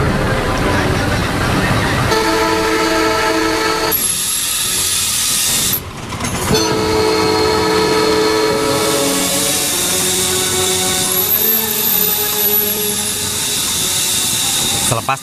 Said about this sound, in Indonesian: kereta Kertajaya.